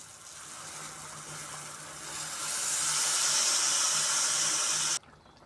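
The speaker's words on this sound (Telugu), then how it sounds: "ఇప్పుడు నానబెట్టుకున్న చింతపండు పులుసు ఇందులో పోద్దాం" Soaked tamarind juice hits a hot pan for an egg omelette curry, giving a steady broad sizzle and hiss that swells louder midway, then cuts off abruptly.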